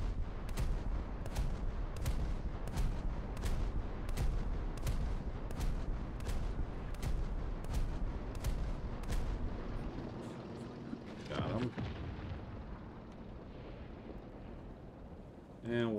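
A naval gun in the video game War Thunder fires 76 mm HE rounds in a steady, rapid string of loud booming shots, about a dozen evenly spaced, before the firing stops and the sound settles into a quieter rumble. A voice speaks at times.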